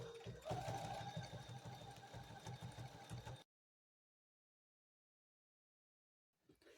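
A sewing machine fitted with a walking foot stitches through a thin quilt, a steady, close mechanical whir with a rapid rhythmic needle beat, then it stops abruptly into silence.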